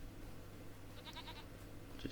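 Goat bleating in the farming video game Farming Simulator 25: a few brief, fairly faint bleats over a steady low game hum, with a short sharper call near the end.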